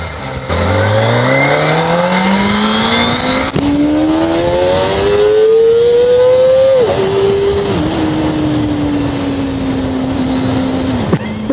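A Kawasaki ZX-25R motorcycle pulls away smoothly with a loud, close engine whine. The pitch climbs steadily through first gear, drops at an upshift, then holds steady, with only a brief shift blip near the end.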